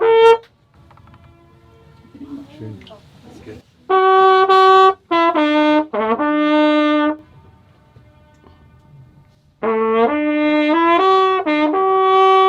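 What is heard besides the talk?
jazz performance echoing in the valley at King's Lake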